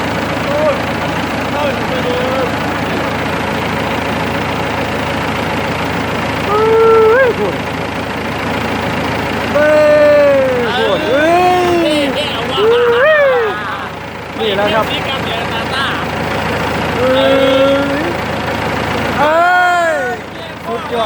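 A Ford 6610 tractor engine idles with a steady low rumble throughout, while people talk loudly nearby over it.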